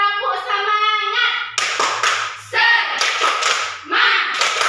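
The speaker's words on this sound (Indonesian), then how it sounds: "Tepuk semangat." Children in a classroom perform the tepuk semangat rhythmic clapping routine, several bursts of sharp, close hand claps in a patterned rhythm following a spoken cue from a teacher.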